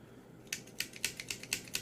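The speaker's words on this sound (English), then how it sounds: "I like that clicking noise there." A MakeToys transforming robot toy joint gives a rapid series of about eight crisp, close ratcheting clicks, evenly spaced as the joint is moved, with no talk over them.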